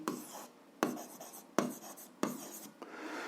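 A pen scratches across paper while working an algebra exercise, several distinct rhythmic strokes repeating about every second or so, close and fairly quiet, with no talking.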